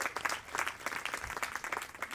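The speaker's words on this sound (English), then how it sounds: "Let's clap it up for Knowledge House" Audience applause at a seventh-anniversary celebration for a tech nonprofit, a steady wash of many hands clapping at a moderate distance throughout.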